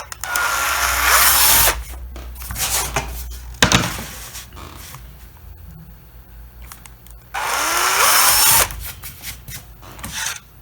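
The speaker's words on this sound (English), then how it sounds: "I'm going to drill a small pilot hole through that mark." A power drill whirs in two loud bursts drilling a small pilot hole in wood for a washstand towel bar, with quieter scraping and handling noises between them, and no voices.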